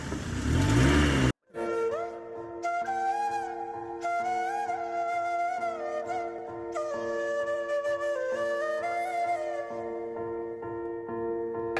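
A vehicle engine revs and whines steadily with shifting pitch for most of the stretch, after a short loud burst of broadband noise at the start; no voices are heard.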